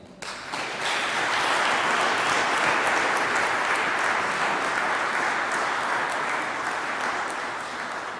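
A crowd applauds at a COP26 event on nature-based solutions for cities: after a brief quiet start, a loud, sustained wash of clapping swells up and holds steadily to the end.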